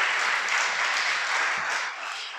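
Steady applause from an audience at a religious lecture, a dense wash of many hands clapping at once, moderately loud and unbroken with no voices over it.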